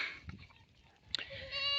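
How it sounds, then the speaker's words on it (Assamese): Goats on an Assam goat farm bleat close by as the herd gathers near, a sharp harmonic call rising near the end over quiet rustling and faint background voices. "এতিয়া গোটেইকেইটা ছাগলী মোৰ ওচৰত আহি গ'ল।"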